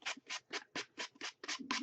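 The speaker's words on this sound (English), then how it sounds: "I'm just taking this nice little sanding block" A small sanding block rubs along the edges of an altered Pringles can box in about eight quick, even back-and-forth strokes, close up and with no talking.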